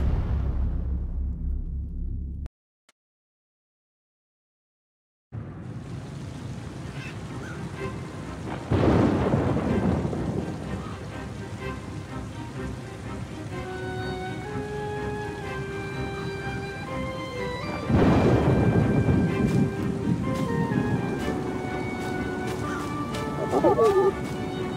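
Thunderstorm with heavy rain in the video game Oceanhorn 2: steady rainfall broken by two loud rolling thunderclaps about ten seconds apart, following a brief silent gap, with a narrating voice and soft music underneath.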